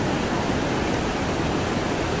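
Mountain stream water rushing down near the Yamunotri temple, a steady broadband roar of torrent flow, loud and continuous throughout with no voices.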